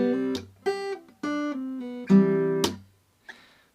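An acoustic guitar plays the hardest measure of a song: five plucked, ringing note groups in a halting rhythm, close and clear with short gaps, ending in a faint soft pluck.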